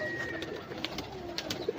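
Pigeons in a pigeon loft coo softly in short, low calls, several repeated over a quiet background, in the rainy season.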